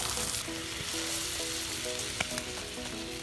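Bacon bits frying in a pan at an outdoor creekside catch-and-cook, giving a loud, steady sizzling hiss throughout with a few faint pops and clinks.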